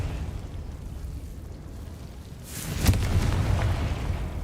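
A Confringo spell explosion bursts in Hogwarts Legacy: a sudden blast cuts through a low rumbling background, then a sustained roaring, crackling wash follows, loud and close.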